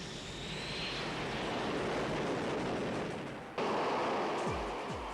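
Grumman KA-6D Intruder refueling jet aircraft flying overhead, a loud steady roaring jet wash that swells and then shifts abruptly, with no voices.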